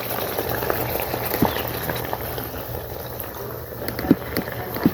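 Catfish in coconut milk at a steady, rolling boil, a dense bubbling hiss that continues nearly unchanged, with a few louder pops near the end.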